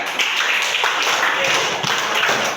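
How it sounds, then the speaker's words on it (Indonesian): Students in a classroom clap together, a short burst of close, busy hand clapping with some overlapping chatter and voices mixed in. "Beri tepuk tangan dulu ya."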